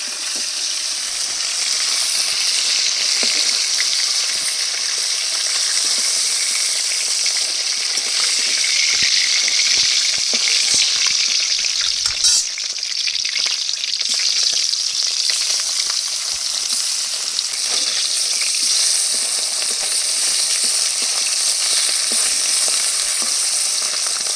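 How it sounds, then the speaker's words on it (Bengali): Fish fries lightly in a pan with a continuous crackling sizzle, close and fairly loud, with occasional stirring clatter and no voices. "মাছগুলো হালকা করে ভেজে নেবো"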